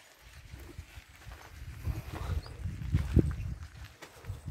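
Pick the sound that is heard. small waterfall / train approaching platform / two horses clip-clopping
two horses clip-clopping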